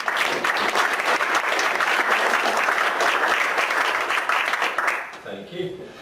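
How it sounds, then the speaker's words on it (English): Audience applause after a WordPress plugin talk, a steady dense roar of many hands clapping for about five seconds before fading out into quieter room sound. "round of applause to Dave"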